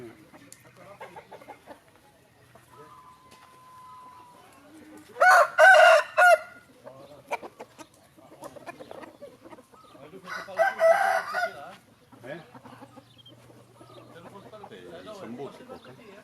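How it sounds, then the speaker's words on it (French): Fighting roosters crow loudly twice in a Thai village, long ragged calls a few seconds apart, amid faint clucking, background voices and general yard noise. "Ah, ça, les coqs de combat, ils sont très très beaux."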